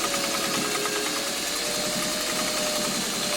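A sewing machine stitches a curved line while thread doodling, running as a steady, close, continuous whir throughout with no pauses.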